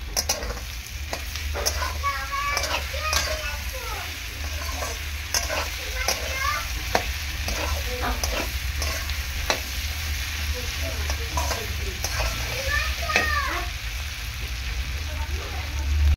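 Snake gourd fries in fish oil with a constant close sizzle, while a spatula stirs and scrapes through it in repeated irregular strokes.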